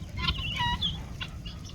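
Indian hens and roosters cluck and make short chirping calls close by, several quick overlapping notes within about two seconds.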